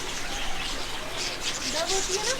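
Small birds chirp and tweet around birdhouses on a strawberry farm in Al Hada, Taif, light high calls scattered over a soft background hum, fairly faint.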